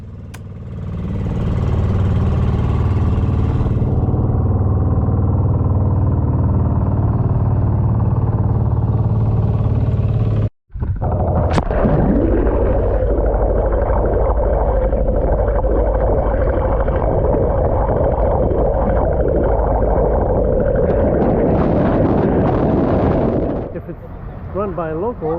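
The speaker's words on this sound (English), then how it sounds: "It takes about an hour of this on this boat, making about 10 knots most of the way." A boat engine drones loudly and steadily at about 10 knots in the Philippines, with a rushing wash of water; a brief dropout midway, then the motor hums on at a higher whine.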